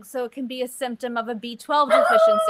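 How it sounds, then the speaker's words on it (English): A dog barks and yips in the background beneath steady speech from a woman during a conference talk, the barks short and intermittent. "Oh, that's my dog."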